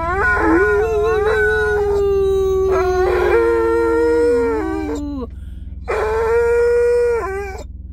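A dog whines and breaks into long, wavering howls, close and loud, in several drawn-out rising and falling calls with brief pauses between them.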